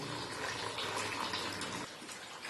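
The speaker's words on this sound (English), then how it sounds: "I got a drain pan underneath there because there's a little bit of antifreeze still in the block." Leftover antifreeze drains from the block of a 5.7 Vortec 350 V8 during a rebuild, falling into a drain pan below in a steady, close liquid trickle that stops abruptly near the end.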